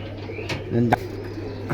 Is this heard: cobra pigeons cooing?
yes